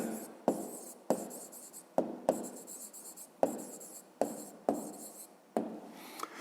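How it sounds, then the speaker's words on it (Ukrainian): A pen writes an answer in a notebook for a fifth-grade math exercise, giving a series of close, crisp scratching strokes, each starting with a sharp tap and fading, about eight in a steady rhythm. "Записуємо відповідь."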